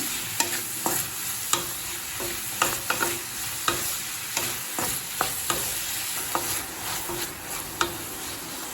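Mushrooms are sautéed in a pan for roadside-style mushroom fried rice, with a steady close sizzle punctuated by regular scraping stirs of the spatula, and no voices.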